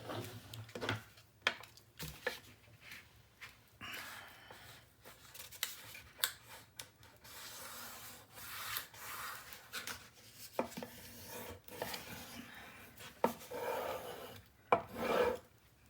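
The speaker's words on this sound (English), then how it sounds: "now I need to go to a different burnishing tool" A burnishing tool rubbing and scraping over tape on a paper mini album, a long run of dry rasping strokes in irregular bursts, close and fairly quiet.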